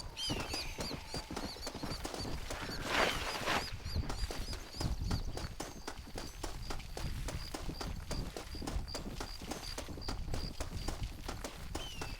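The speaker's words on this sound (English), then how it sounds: "Escutei barulho de cavalo aqui em cima" Horse hooves beat in Red Dead Redemption, set in Mexico, a long, fast, even run of galloping hoofbeats with faint bird and ambient sounds behind, no one talking.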